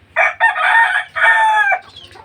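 Chickens and roosters at a chicken farm, with a loud nearby rooster crow broken into two long drawn-out calls, then softer clucking at the end, no one talking.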